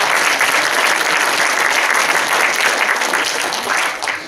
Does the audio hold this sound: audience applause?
yes